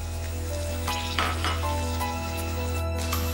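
Chopped onions and green chillies fry in a pan while being stirred. There is a steady close sizzle, with occasional scrapes and clinks of a utensil against the pan and a constant hum underneath.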